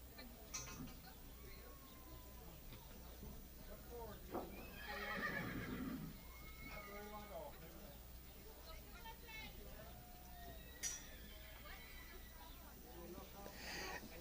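During a barrel racing speed event at an arena in Thorp, Wisconsin, a horse whinnies and hooves clop on the ground, with a commentator and crowd chatter carrying on underneath.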